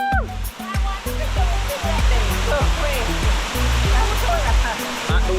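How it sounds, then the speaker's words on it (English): A waterfall at a hidden hiking spot roars in a steady, dense rush close by, while low voices and broken speech-like tones come through under the water noise. "At the waterfall."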